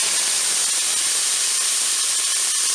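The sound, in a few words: onions added to hot oil in Cookeo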